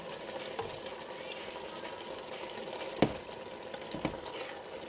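Butter sizzles in a pan while beef bistek cooks, a steady, low crackle running through the whole clip. A couple of sharp clinks from a utensil on the pan stand out over it, and no voices are heard.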